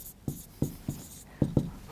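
Pen or marker strokes while working through a JEE Advanced maths solution on lines and direction ratios, five short scratchy taps in an uneven rhythm, close and fairly quiet with no talking.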